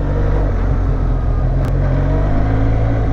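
A 2020 Benelli TRK 502 motorcycle engine rumbles loud and close, holding a deep steady drone with a brief click near the middle and no voices.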